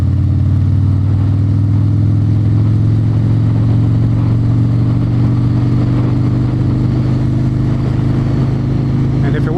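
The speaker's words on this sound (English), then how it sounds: "here I am riding this bike now" Motorcycle being ridden outdoors, its engine droning steadily and loud throughout with a strong low rumble and slight rise and fall in revs, wind noise over the top.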